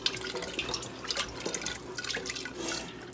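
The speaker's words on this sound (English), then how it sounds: "we need to get some water in there and get all that goodness" Water is ladled into a pot of homemade tomato pasta sauce, a faint, steady trickle and splash with small drips, heard alone at low level.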